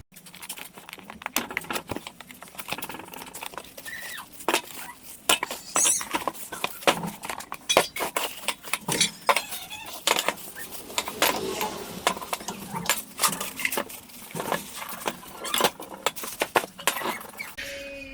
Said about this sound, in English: So let's cut this and unbox it.